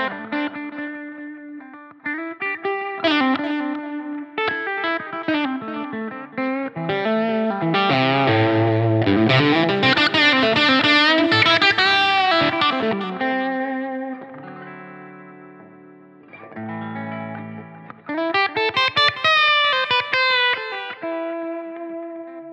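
Electric guitar through a Line 6 Helix modeler, played with hybrid picking; melodic lines with chorus, echo and reverb swell and fade, shifting between lighter plucked notes and thicker driven passages, close and prominent, no talking.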